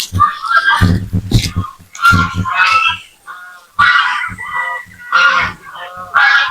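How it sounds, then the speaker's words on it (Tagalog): Native chickens cluck and squawk in a busy flock close by, with overlapping calls and a few louder honking cries. "Yan po mga manok mga idol."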